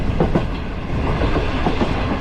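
Green Line express passenger train from Karachi to Rawalpindi running on rails, a steady loud rumble with rhythmic clickety-clack of wheels, heard from inside.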